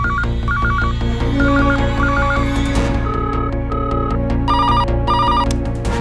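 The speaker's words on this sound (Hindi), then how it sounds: "लोगों ने मंत्री और पुलिस कमिश्नर के ऑफिस के फोन की घंटी को एक पल के लिए भी शांत नहीं रहने दिया।" Office telephones ring in repeated bursts, an electronic trilling bell pattern that recurs several times, loud and close, with other ringing tones overlapping toward the end and no voices.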